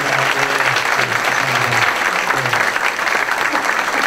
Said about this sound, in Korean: 선생님 박수를 많이 드리겠습니다.